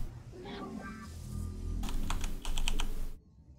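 Rapid computer keyboard typing during a StarCraft 2 match, a steady clatter of keystrokes over game sounds that builds into dense bursts of fast clicks before stopping abruptly.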